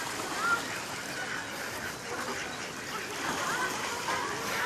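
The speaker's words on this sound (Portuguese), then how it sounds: "Briga de pato." Ducks quack and squabble amid a busy, noisy outdoor background, with calls rising and falling throughout.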